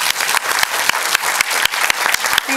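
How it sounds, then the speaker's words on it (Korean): An audience claps after a lecture and Q&A at a Justice Party talk, steady, dense applause from a full hall, loud and even, with sharper individual claps standing out near the front. "박수 부탁드립니다"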